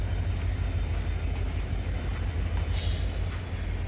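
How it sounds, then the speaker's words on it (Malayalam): A train stands idling at the Dindigul railway station platform, giving off a steady, loud low rumble with a constant engine hum and faint higher station noise throughout. "ഏതോ ഒരു ട്രെയിൻ വന്ന് കിടപ്പുണ്ട് ഇവിടെ"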